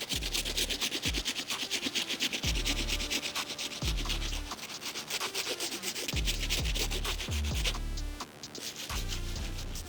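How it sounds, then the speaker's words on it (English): A wire bristle brush scrubs a Nike Futura Dunk sneaker in fast, repeated back-and-forth strokes, a continuous close scratchy rasp with a steady rhythm that runs nearly unbroken. "I do have a wire bristle brush that we use a lot just to get that extra deep clean."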